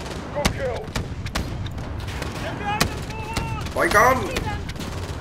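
Sharp, loud gunshots crack at irregular intervals during a Call of Duty: Modern Warfare (2019) battle, with radio-like chatter and a voice speaking briefly between the shots.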